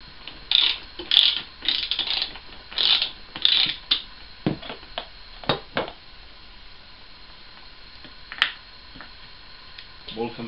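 A ratchet clicks in short bursts as screws are loosened on a Suzuki GSXR 600 SRAD motorcycle, with sharp metallic clatters and knocks in between, close and fairly loud.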